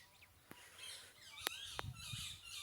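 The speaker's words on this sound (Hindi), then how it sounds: "आ रही है आपको आवाज़ तोते की?" Parrots call at a farm field in the dark, giving several short, shrill squawks and chirps at a moderate distance over a soft, noisy background.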